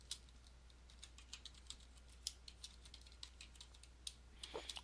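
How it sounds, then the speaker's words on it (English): Computer keyboard keys tapped to enter an encryption passphrase for mounting a LUKS-encrypted volume in Ubuntu: a steady run of faint, close, irregular clicks over a low background hum, with no voices. "I'm going to type that in"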